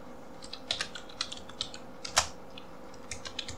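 Java code is typed on a computer keyboard in quick, irregular runs of close, crisp keystrokes, with one sharper louder key press near the middle and no talking.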